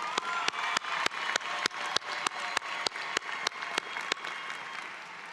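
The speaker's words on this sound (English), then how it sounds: "Let's give Dr. Sheets another round of applause." A commencement audience applauds in steady, evenly spaced claps, each sharp hit standing out clearly in a regular rhythm that thins slightly toward the end.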